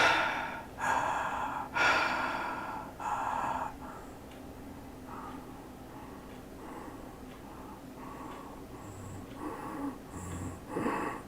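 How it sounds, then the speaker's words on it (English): Normal breathing during sleep, recorded for a sleep study: a few loud, rhythmic inhalations and exhalations early on, then quieter, softer breaths continuing at a slow, even pace. "This is normal breathing"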